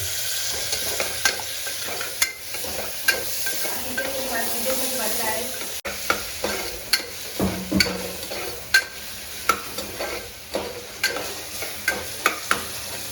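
Tomatoes dropped into a pan of frying green pea curry, with a loud steady sizzle and repeated scraping stir strokes close by, and a voice speaking briefly over the cooking.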